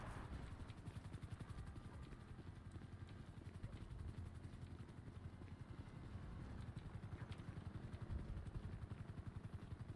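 A helicopter in a video game gives a faint, steady rotor thump with a quick regular beat, low and distant-sounding, running the whole time with no voices.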